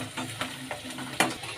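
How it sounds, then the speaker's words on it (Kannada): Onions and curry leaves fry in oil while a spoon stirs them, giving a close, steady sizzle with irregular scraping knocks and one sharper clack, and no talking. "ಈಗ ಕರಿಬೇವಿನ ಸೊಪ್ಪು ಸೇರಿಸ್ಕೊಳ್ಳೋಣ, ಮತ್ತೊಮ್ಮೆ ಕೈ ಆಡಿಸ್ಕೊಳ್ಳೋಣ"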